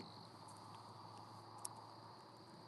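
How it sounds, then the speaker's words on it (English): Crickets chirp outdoors on a quiet night beside a campfire, a steady faint high trill that carries on unbroken throughout, with one brief sharper click partway through. "Listen to the crickets."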